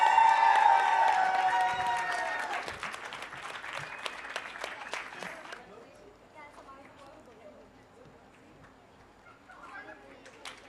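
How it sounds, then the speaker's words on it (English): Audience applause for a school quiz team at a reading challenge grand finale, loud steady clapping that thins out after about five seconds while a voice talks over it. "Guys, round of applause for One World International School, Sarjapur."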